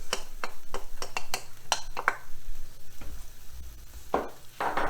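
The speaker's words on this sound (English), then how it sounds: "We're going to add the garlic and the ginger." Garlic and ginger hit a hot pan for cauliflower fried rice, sizzling softly under a busy run of sharp spatula taps and stirring clacks, close and fairly loud, with no voices.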